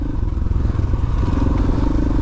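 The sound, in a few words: dual sport motorcycle engine riding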